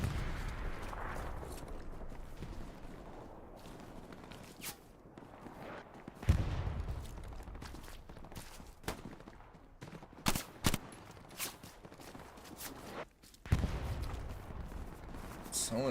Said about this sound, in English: Someone is mortaring the hell out of us.